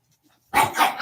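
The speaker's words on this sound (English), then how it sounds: "If I had that barking in my face" A small dog barks in a sudden burst of sharp, harsh yaps, very close and loud after half a second of near silence.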